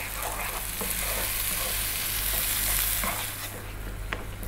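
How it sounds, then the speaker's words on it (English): Fresh tomatoes for an eggplant curry fry in a pan over above-medium heat, giving a steady, close sizzle with occasional spoon scrapes and stirring clatter throughout. "So that's beautiful, cooking out those fresh tomatoes."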